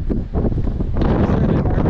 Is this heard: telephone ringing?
no